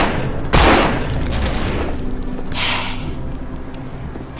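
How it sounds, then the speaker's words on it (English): Gunfire in the zombie survival game No More Room in Hell: one sharp, loud shot near the start, followed by a quieter burst a couple of seconds later over a low rumbling game background. "Who is firing that shot?"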